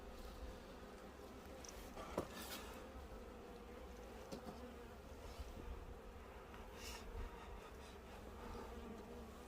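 Many honeybees buzz in a dense, continuous drone at a beehive during a winter hive changeover, quiet and steady with a few louder close passes and no speech.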